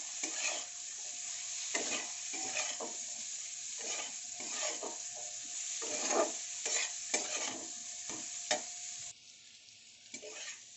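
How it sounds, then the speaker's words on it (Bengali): Cauliflower stalks fry in hot oil with a steady sizzle, while a spatula scrapes and stirs the pan in repeated bursts, close and fairly quiet throughout. "সবার আগে ফুলকপির ডান্ডিগুলো দিয়ে দিলাম, দিয়ে বেশ কিছুটা ভাজা ভাজা করে নেব।"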